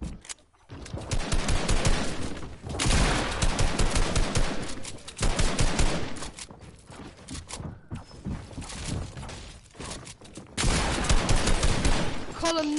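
Video game gunfire comes in long rapid automatic bursts, loud and close, broken by brief gaps and stretches of quieter firing.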